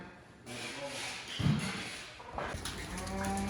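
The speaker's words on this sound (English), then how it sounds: "Cows are headed up to the parlor." A herd of dairy cattle shuffles and moves about nearby toward the milking parlor, with a low moo and scattered farmyard noise over steady background ambience.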